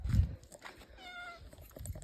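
A cat meows in a drawn-out call with a clear tonal pitch, calling to its kittens in a rural home; low thumps and rustling come before and after the call, at moderate closeness.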